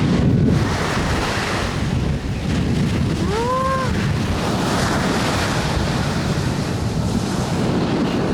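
Sea waves washing onto the shore at a Kagoshima island reached only at low tide, a steady broadband roar with wind buffeting the microphone, loud and continuous throughout, with a brief voice-like tonal sweep in the middle.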